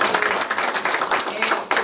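An audience applauds at a ribbon cutting, a short burst of dense, steady clapping as a voice speaks over it.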